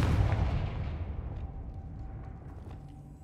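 A Confringo fire spell explodes in Hogwarts Legacy, a heavy booming blast that rolls off into a decaying rumble over a few seconds, with faint small pops trailing at the end.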